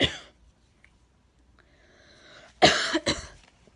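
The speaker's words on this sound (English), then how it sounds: "I've had this really bad cough." A person with a bad cough gives a harsh throaty burst, a short quiet breathy pause, then two loud close coughs in quick succession.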